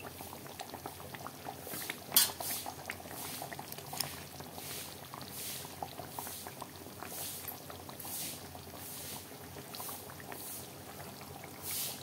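Vaalai fish pieces go into a bubbling coconut fish curry, producing a soft, continuous boil with a small splash early on and gentle popping throughout.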